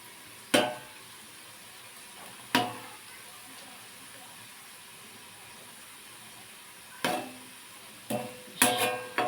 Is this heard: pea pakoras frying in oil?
yes